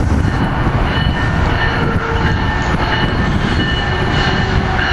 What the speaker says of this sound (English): Here we have the new ACS 64 pulling in to Cornwells Heights here.